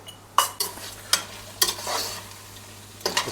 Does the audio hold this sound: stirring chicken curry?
yes